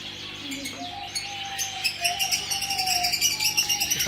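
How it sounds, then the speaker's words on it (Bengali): Birds chirping outdoors in Belgium, with repeated bright tweets and a few longer whistled calls over steady background noise, growing busier toward the end. "এখানেও পাখি।"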